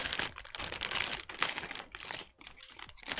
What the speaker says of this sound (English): As I pick a fight with plastic bags.